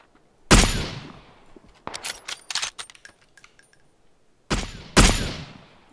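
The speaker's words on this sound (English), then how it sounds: "Shots to the northwest getting closer." Gunfire in PUBG: several sharp, loud shots in separate bursts, a single crack, then a rapid cluster of quieter reports, and two more heavy shots near the end, each trailing off into brief echo.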